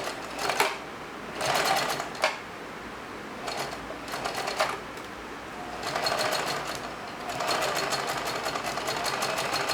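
A sewing machine stitches fabric in bursts of rapid mechanical clatter, starting and stopping several times up close, with no talking.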